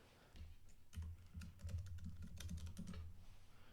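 Fast typing on a computer keyboard, close and quiet, a steady run of soft clicking keystrokes lasting several seconds with no voices over it.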